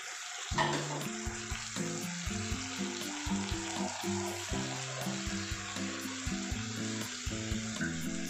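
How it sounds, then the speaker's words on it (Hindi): Onion and water cook in a pan over a low gas flame, giving a steady close sizzle and bubbling with a few clinks and stirring knocks throughout, no voices. "अभी ये प्याज पूरा पकने तक और ये पानी पूरा मतलब सूखने तक हम लोग को इसको गैस पे ही रखना है, स्लो फ्लेम पे"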